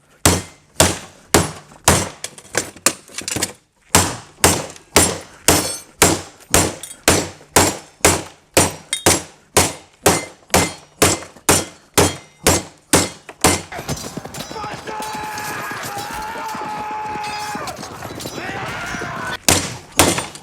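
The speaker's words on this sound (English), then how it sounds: "use a hammer." A hammer strikes a metal faucet over and over in a steady, loud rhythm to knock it apart, a couple dozen close blows, then gives way to a rougher scraping, rattling clatter.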